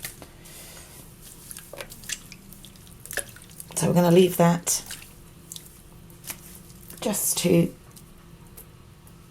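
Wet wool fleece squished and pressed in hot rinse water, two short bursts of squelching and dripping separated by pauses, with a voice speaking between them.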